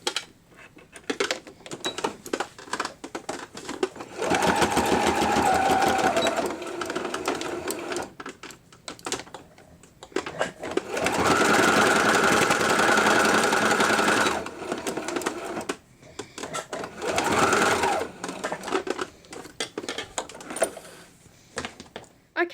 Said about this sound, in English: head over to the sewing machine and stitch that down